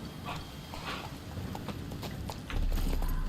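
Hooves of the horse Roach in The Witcher 3 clop along in a quick, even rhythm, moderately close, over low ambient game sound that swells louder toward the end.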